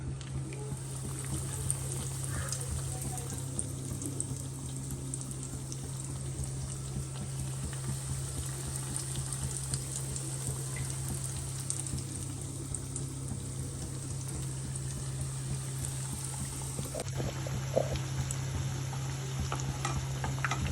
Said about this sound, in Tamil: இப்போ நான் எண்ணெயில் போட்டுக்கிறேன்.